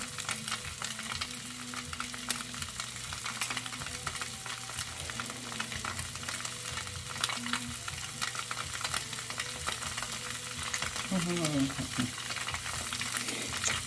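Vegan breakfast food sizzling steadily in oil and butter in a pan on a stove, with occasional scrapes and stirring, loud and close throughout.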